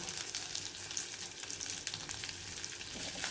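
Onions fry lightly in a pan with curry leaves for a dal-less sambar, producing a steady close crackling sizzle at an even level with no voices.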